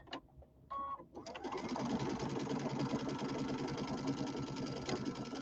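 A sewing machine stitching a pillow with polyester thread: a few short clicks and a brief whir, then a continuous, steady mechanical hum of stitching close by.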